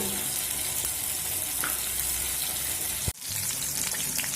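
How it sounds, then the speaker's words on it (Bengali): Mixed winter vegetables sizzling in a pan with a steady close hiss, faint stirring scrapes, and a brief sharp clunk near the end before the sizzle resumes. "সবজি ভাজা হচ্ছে"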